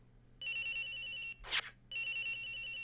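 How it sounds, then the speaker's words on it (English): A telephone rings in the Ace Attorney Investigations video game, a steady electronic ringtone with two bursts separated by a brief noisy break, loud and clear with no talking. "It's ringing from somewhere, sir!"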